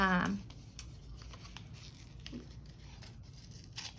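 Cardstock for a handmade card is cut with scissors, giving a short run of crisp snips and faint paper rustles. A voice speaks briefly at the very start.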